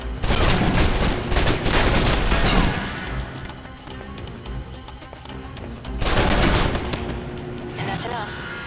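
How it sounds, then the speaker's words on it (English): Submachine guns in the video game Alpha Protocol fire dense bursts of rapid shots, loud and close, easing into scattered gunfire and then returning in a second heavy volley, with voices over parts of it. "Now for your submachine guns."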